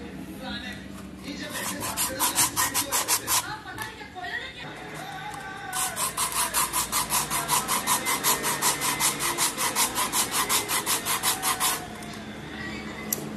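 A cracked foot heel rubbed and scrubbed with an abrasive tool: steady, rapid rasping strokes in a fast rhythmic back-and-forth, close and fairly loud, pausing briefly in the middle before resuming at an even pace.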